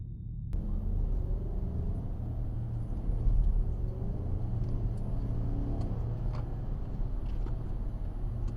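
A car driving along a road, heard from inside the cabin as a steady low engine and road rumble that continues evenly throughout, with a brief click near the start.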